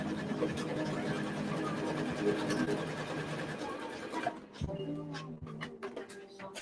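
A sewing machine stitches a pocket closed in a craft session, a steady close mechanical whirr that runs continuously for about four seconds, then stops and leaves quieter room sounds and faint handling noises.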